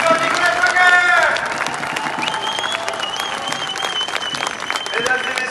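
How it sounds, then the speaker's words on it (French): A crowd at a French political rally claps for a speaker in a sustained, loud round of applause. A voice rises over the clapping at the start and again near the end. "on peut faire un tonnerre d'applaudissements à Nicolas Joguer"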